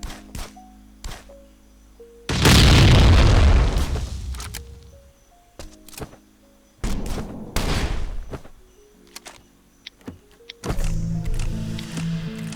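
Three heavy explosive blasts breaching a door in the video game Last Island of Survival, each a loud broadband burst with a rumbling decay, spaced a few seconds apart over a low electronic hum with faint tonal beeps.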